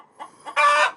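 Chicken clucking close by in a home-made coop and run, a couple of soft low clucks followed by a louder, sustained squawk-like call.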